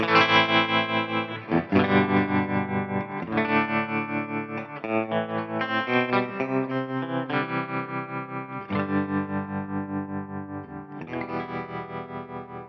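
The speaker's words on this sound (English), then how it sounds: "The other two sounds are just clean uh, tremolo." Clean electric guitar chords through a Fractal amp modeler's Blues Jr. model ring out with a pulsing tremolo wobble in the volume, played steadily with no voices.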